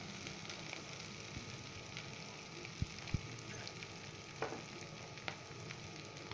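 Radish rounds and kohlrabi frying in a pan for sambar give off a soft, steady sizzle while being stirred, with a few sharp utensil clicks against the pan partway through.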